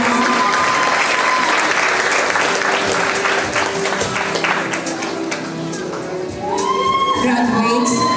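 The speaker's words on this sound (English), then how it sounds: "Please give them a big round of applause" Applause from a commencement audience for the graduates of a life skills academy, dense sustained clapping that fills the hall and carries on steadily before easing slightly near the end.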